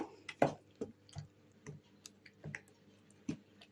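Grated potato is mixed with egg and salt for potato pancakes, giving soft wet squishing with light spoon clicks against the bowl in an irregular rhythm, close and faint.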